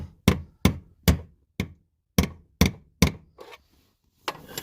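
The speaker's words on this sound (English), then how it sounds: "you can use a chisel or a rod and a hammer" Sharp metallic hammer blows on a chisel, turning a ring during fuel leak repair on a 2010 Challenger, ring out one after another, about eight strikes with short pauses, each followed by a brief ringing decay.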